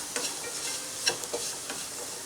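Chilli powder fries in a pan for a Kerala-style potato rice, stirred with soft scraping strokes over a faint, steady background hiss; quiet and close, no voices.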